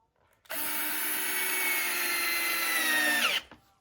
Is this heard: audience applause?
no